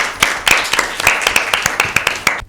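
Audience clapping at a Bible quiz show, a dense run of sharp overlapping claps from a nearby crowd, steady and lively for a couple of seconds before cutting off.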